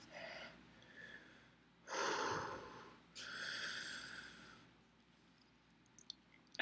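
Deep, heavy breaths after eating a hot Douglah pepper, two long audible inhales and exhales close to the microphone, separated by quiet gaps, with a few faint clicks at the end.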